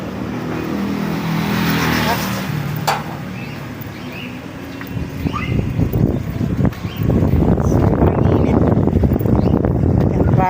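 Road traffic on a street near a school on enrolment day, with cars passing and a steady engine rumble that grows heavier toward the end, heard from nearby with faint background voices and birds.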